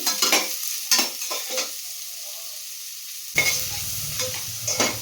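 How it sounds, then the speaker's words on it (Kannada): Onions frying in oil with pulao spices for millet pulao, a soft sizzle broken by several sharp spatula stirs and scrapes, louder near the end, no speech. "ಈರುಳ್ಳಿ ಸ್ವಲ್ಪ ಫ್ರೈ ಮಾಡ್ಕೊತೀನಿ"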